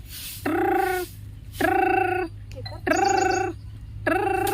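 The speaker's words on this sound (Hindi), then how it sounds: "भौजी का फोन" A telephone rings four times in regular bursts, each a loud warbling electronic tone separated by short pauses, close and clear.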